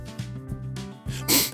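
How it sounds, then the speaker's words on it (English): A single close sneeze bursts out at the end after a brief vocal buildup, loud and sharp. "In English, when someone sneezes,"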